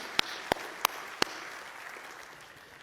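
A small church congregation claps a few times after a sermon prompt, giving four distinct, sharp claps spaced about a third of a second apart before fading into quiet room tone.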